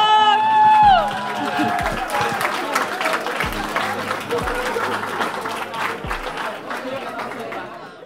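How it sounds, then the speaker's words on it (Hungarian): Wedding guests clap and cheer for the bride, with a lively crowd of voices and chatter running steadily through the applause. "Tapsot a mennyasszonynak!"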